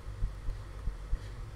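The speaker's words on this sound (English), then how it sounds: "I can hear my own heartbeat." A heartbeat in the horror video game The Stalked, low thudding pulses recurring at a steady slow rhythm over a dark rumbling ambience, fairly faint and with no talking.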